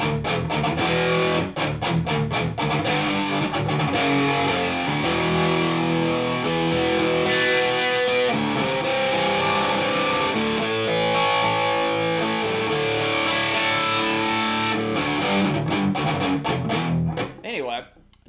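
An electric guitar riff played through an MXR analog chorus pedal with high-gain distortion, thick and sustained with shimmering chords, loud and continuous for about seventeen seconds before it cuts off abruptly.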